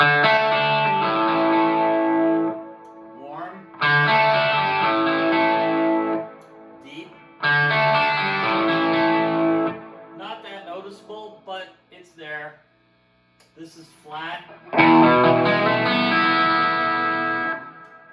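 An electric guitar plays through a Marshall SV20H amp with flat EQ, giving a clean, even tone, strummed chords in several bursts separated by short pauses and a few single notes.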